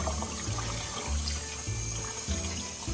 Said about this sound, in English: this is how you clean the cabbage